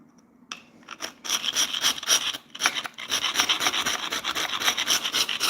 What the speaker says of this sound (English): And I'm using the face of the scraper.